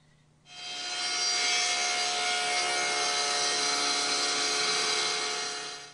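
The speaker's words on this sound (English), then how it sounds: "Now we'll make that pass shaving off the edge of the board." Table saw ripping a thin strip, about 1/8 inch, off the edge of a wooden board: the blade starts up loudly after a short quiet lead-in and holds a steady, close, high whining cut to the end.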